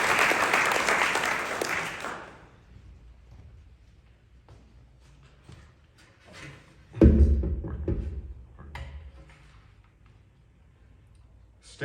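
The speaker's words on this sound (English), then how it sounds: "Clap it up for Brian." An audience applauds an honorable-mention winner at a literary awards ceremony, a loud burst of clapping for about two seconds that then fades to scattered taps and small room noises.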